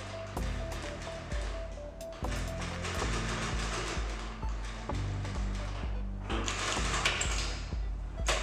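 An electronic column sewing machine, model SA-D791DN with vertical small bobbin hook and needle-and-feed-dog double transport, runs steadily with rhythmic mechanical clatter and periodic clicks of thread trimming and backtack functions, loud and close.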